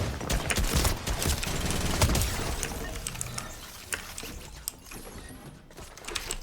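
Gunfire from a pump shotgun and SCAR in a shooting video game rattles in rapid, loud bursts of sharp shots, then thins to scattered, fainter pops and clicks.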